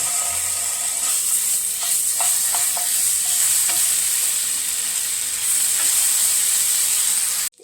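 Ginger garlic paste sizzles steadily in a hot pan for a homestyle kootu curry, a loud continuous hiss with occasional scraping clicks of a spoon stirring, no talking.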